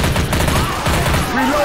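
Rapid bursts of gunfire from the zombie shooter Left 4 Dead 2, set in The Parish campaign's park, crackle loudly and continuously throughout, with a voice speaking over the shooting.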